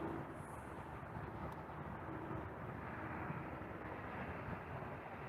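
A passenger jet lands on runway 29, heard as a faint, distant, steady engine rumble with no voices.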